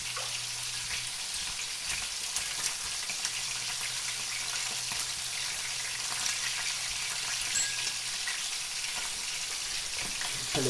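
Bean sprouts and vegetables stir-frying in a pan for yasai itame, a steady close sizzle with soft stirring scrapes running throughout, no talking.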